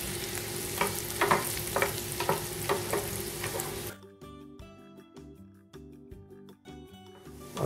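Cumin, garlic, asafoetida and chilli sizzle loudly in hot oil for several seconds with sharp stirring clatter, then the sizzle drops away, leaving quieter clinks and faint crackling.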